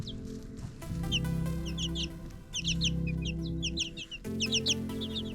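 Chickens and growing chicks in a predator-proof backyard run cluck steadily, with bursts of high peeping chirps repeating over a low murmur of nearby hens.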